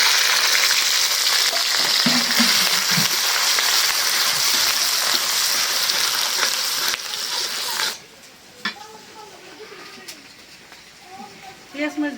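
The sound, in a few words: frying onion, garlic and green chillies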